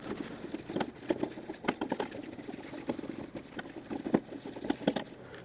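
A 2003-2007 Honda Accord being let down on a jack gives off a close, steady run of rapid, uneven mechanical clicks and ticks with no voices.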